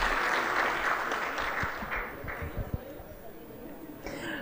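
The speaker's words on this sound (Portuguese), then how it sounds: "Então, uma salva de palmas a Ana Cristina." A seated audience at a corporate board election debate gives a round of applause for a prize winner, loud at first and then thinning to scattered claps before fading out.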